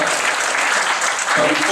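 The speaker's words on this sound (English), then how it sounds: "So I'd like you to give a round of applause for sponsors." An audience at a business awards event applauds the sponsors, steady clapping throughout with some voices mixed in.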